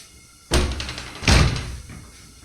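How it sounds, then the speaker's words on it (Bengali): Two heavy door thuds about three-quarters of a second apart, the second louder with a short ringing decay, close by and without speech. "সরো বাবা দরজাটা দিয়ে যাই"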